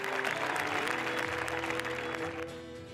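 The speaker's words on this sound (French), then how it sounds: "Sous un tonnerre d'applaudissements," An audience at a 4L Trophy rally event applauds a crew being called up, a dense, continuous wash of clapping from a crowd that tapers off near the end, with faint tonal sounds underneath.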